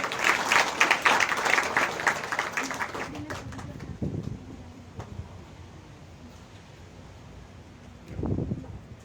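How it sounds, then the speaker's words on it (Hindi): Audience applause at a Bhagavat Katha religious discourse at Bada Ramdwara, Jodhpur, begins as loud clapping and fades over a few seconds, followed by quieter sounds and a short burst of clapping near the end. "एक बार जोरदार ताली बजा दें।"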